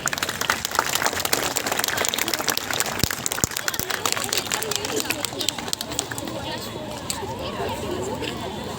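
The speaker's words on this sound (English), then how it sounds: "A big round of applause for sir." An audience at an inter-school quiz competition applauds a guest called to the stage, a dense, steady wash of clapping mixed with crowd murmur that carries on for the whole stretch.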